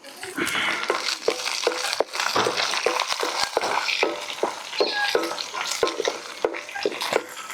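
Mustard seeds, split lentils, dried red chilies and curry leaves frying in hot oil, making a loud, close crackle and sizzle with sharp popping spatters and scraping stirs throughout.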